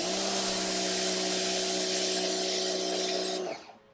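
Suyncll electric pressure washer spraying a concrete grate with a 40-degree tip, a loud, steady motor whine and hiss of water that holds evenly, then cuts off near the end.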